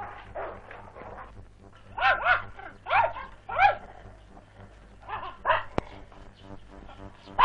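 Mongolian bankhar dogs bark in a run of sharp, repeated barks with a few yips, some overlapping, close and fairly loud over a low steady hum.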